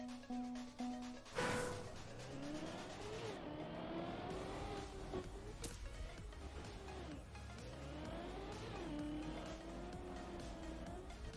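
A race car in a racing video game accelerates hard with no braking, its engine whining and rising in pitch through repeated revving surges, tires squealing, loud and close throughout.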